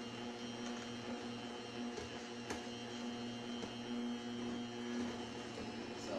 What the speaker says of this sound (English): So now I'm using the stand mixer.